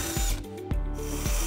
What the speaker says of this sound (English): we're gonna use a 7/16 drill bit, and using the hitch as a template, we're gonna drill through the rear body flange onto the other side